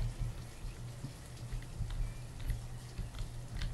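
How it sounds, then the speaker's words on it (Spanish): Rain falling in the city-building video game Banished, a soft steady patter of droplets with scattered brighter drips over a low hum, quiet and without speech. "vuelve la lluvia. Pesada la lluvia"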